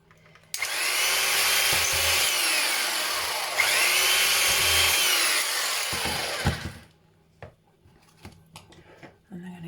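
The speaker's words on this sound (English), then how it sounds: "I'm just going to use a drill because I've got one." A power drill whines loudly for about six seconds, a harsh high-pitched grinding through an aluminium can, then stops, leaving scattered clicks and light handling noises.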